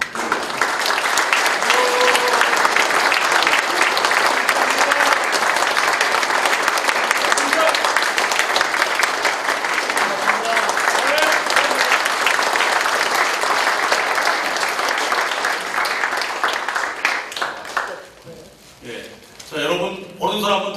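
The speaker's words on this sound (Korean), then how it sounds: "꽃다발 전달할 때 축하의 마음 가득 담아서 큰 박수 부탁드리겠습니다" Audience at a police veterans' association inauguration ceremony giving loud, sustained applause during a bouquet presentation, dense continuous clapping that fades near the end, where a voice speaks.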